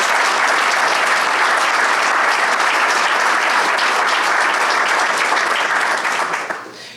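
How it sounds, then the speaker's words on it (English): A large audience at a business alliance event gives a sustained, loud round of applause for a panel, dense clapping holding steady before tapering off at the end. "one more round of applause for our fantastic panel members"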